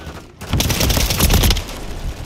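Rapid submachine-gun fire from Call of Duty: Modern Warfare III, a dense burst of close, loud shots lasting about a second after a brief quiet start, then fading into lingering game noise.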